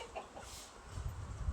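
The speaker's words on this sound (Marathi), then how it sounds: "मित्रांनो आता आम्ही कोंबड्या बघायला नाही का." Hens clucking in a village poultry area, short soft clucks at moderate distance over a low rumble of background noise, with no talking.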